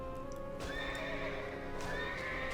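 Horse in World of Warcraft gives a bright, wavering neigh over a steady game backdrop, with soft hoof clip-clops around it, close and clear.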